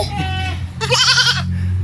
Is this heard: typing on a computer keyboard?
no